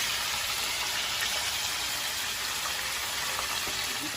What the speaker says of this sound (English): You can hear the bubbles are not as violent as they were when we first put the chicken in.